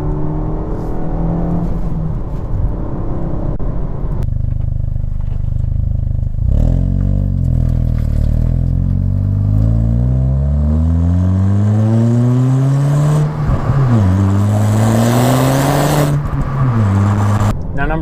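A 2019 Hyundai Veloster Turbo's 1.6-liter turbocharged four-cylinder engine revs repeatedly, pitch climbing and falling through several sweeps, loud and close with a throaty turbo character.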